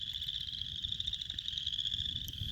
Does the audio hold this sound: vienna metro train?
no